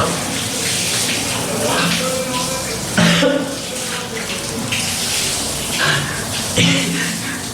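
Cold shower water gushing steadily, close and loud, with brief splashy surges as the spray shifts; a voice speaks over it at moments.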